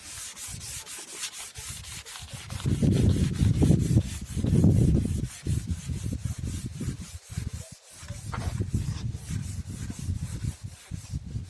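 Wet sanding of a car headlight lens with 400-grit sandpaper and soapy water, a steady rhythmic scrubbing that swells louder in the middle strokes, close and continuous with no talking.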